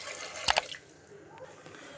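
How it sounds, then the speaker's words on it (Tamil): A cup of water is tipped into sautéed masala for a cabbage curry, making one quick, close splash that fades into quiet. "1 கப் அளவுக்கு தண்ணி ஆட் பண்ணிக்கலாம்."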